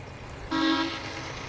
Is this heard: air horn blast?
yes